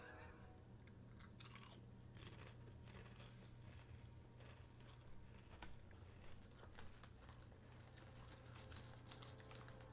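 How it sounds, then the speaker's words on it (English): Close chewing right at a microphone, soft wet crunching and smacking in an irregular rhythm, quiet and continuous, with faint clicking like keyboard typing behind it. "God, I hope my chewing doesn't get into the microphone too much."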